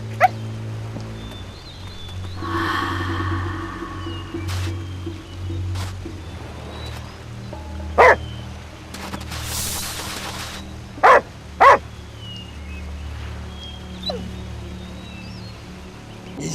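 A dog in a pirate-themed video game barks several times in short sharp bursts over a low ambient game soundscape with steady background hum, fairly close and clear, with no talk.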